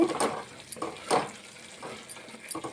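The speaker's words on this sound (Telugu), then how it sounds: "పుదీనా ఇలా మగ్గిపోయింది కదండి ఆయిల్లో బాగా మగ్గింది" Mint leaves cooking in oil, a soft low sizzle up close broken by a few quiet scrapes and stirs of a spoon, brief and faint overall.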